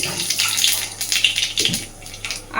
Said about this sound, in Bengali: এইবার আমি ফোড়নে দিয়ে দিচ্ছি একটু কালো জিরে